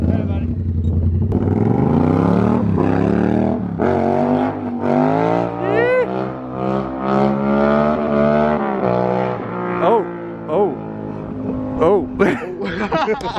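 A pickup truck's engine roars and rises in pitch as it pulls a wheelie, loud and sustained with shifting revs while people talk excitedly over it.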